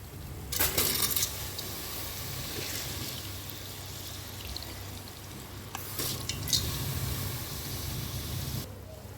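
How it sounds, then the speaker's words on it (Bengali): Washed rice pours into a pot of cooked chicken for khichuri, a soft gritty rattle and patter over steady low stovetop hiss, with two brighter bursts of grains landing, fairly quiet throughout. "এই পর্যায়ে দিয়ে দেব ধুয়ে রাখা চাল"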